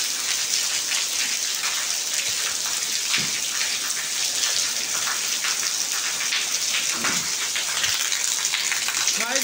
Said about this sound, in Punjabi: ਬਾਰਿਸ਼ ਵੀ ਅੱਜ ਪੂਰੇ ਆਰਡਰਾਂ 'ਚ ਪੈਣ ਡਈ